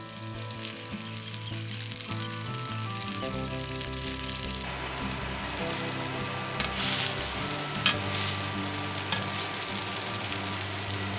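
Tofu patties fry in a pan where ginger slices infused the oil, giving a steady, close sizzle and crackle that runs throughout, with stirring and utensil scrapes and a brief sharper clatter near the end.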